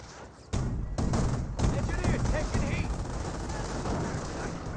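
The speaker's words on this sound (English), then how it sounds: "Anti-tank gun does get a good hit there on the" Anti-tank gun firing in Company of Heroes, a World War II strategy game, with heavy booming shots and battle noise that start abruptly and carry on steadily under a commentator's voice.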